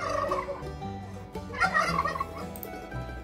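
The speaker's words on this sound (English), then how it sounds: "if you want to learn to sing to your pet turkeys, like Turkey Carl here" A pet turkey gobbles in a few rapid rattling bursts, close and fairly loud, with no talking.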